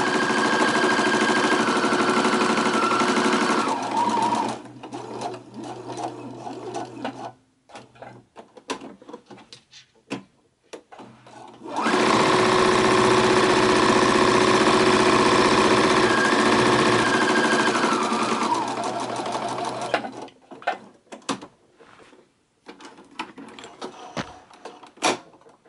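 A sewing machine stitches around a fabric messenger bag in long bursts of rapid, even chatter, stopping and restarting with short pauses and handling noises between runs.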